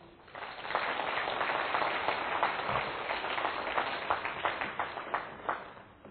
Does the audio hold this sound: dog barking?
no